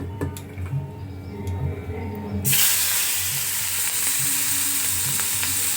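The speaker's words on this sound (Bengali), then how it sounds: "এখানে আমি তেল গরম করতে বসিয়ে দিয়েছি" Hot oil in a kadai for crab curry, with faint clinks and a low background hum before a sudden loud, steady sizzle and hiss erupts and continues.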